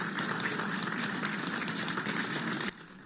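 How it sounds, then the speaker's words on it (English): People at an airport arrivals gate applaud the Taiwan rescue team coming out, steady moderate clapping that drops off abruptly near the end. "When the Taiwan rescue team came out of the gate, they were met with applause"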